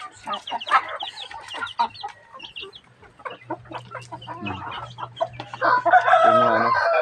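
Chickens on a Filipino poultry farm cluck and crow near and loud throughout, with a steady low hum underneath and a rooster's call rising strongly toward the end.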